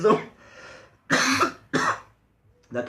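A person coughs several times in loud, harsh bursts close to the microphone, separated by short pauses.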